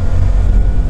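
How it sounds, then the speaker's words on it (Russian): A heavy Land Cruiser 80 with a 4.7-litre V8 at full throttle, a loud, steady low engine rumble with road roar, continuous through the short moment. "Газ в пол."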